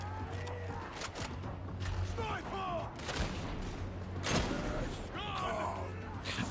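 Shotgun blasts in the game Warhammer 40,000 Darktide ring out at irregular intervals amid sharp impact bursts, clanking mechanisms and a steady low drone, with a voice talking over the gunfire.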